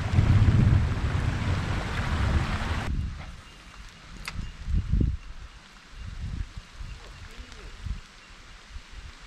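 Strong wind gusting over a microphone during a storm on a bass-fishing boat, a loud roaring rush for the first few seconds that then drops to quieter, intermittent buffeting.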